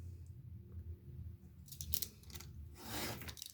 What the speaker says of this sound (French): Je vais couper mon petit surplus.